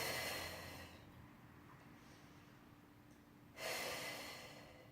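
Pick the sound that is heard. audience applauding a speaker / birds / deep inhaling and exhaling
deep inhaling and exhaling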